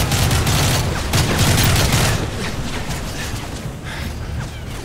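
Gunfire from soldiers and a helicopter in Call of Duty: Modern Warfare 3 video game, dense rapid automatic fire and scattered shots, loud and continuous at first then easing slightly but persisting throughout.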